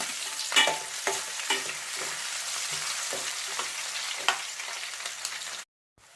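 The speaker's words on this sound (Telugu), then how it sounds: "ఇప్పుడు ఆనియన్స్ బాగా ఫ్రై అయినాయి కదా" Onions and green chillies fry in hot oil for a cauliflower curry, a steady close sizzle broken by repeated spatula scrapes and stirs, then cut off abruptly near the end.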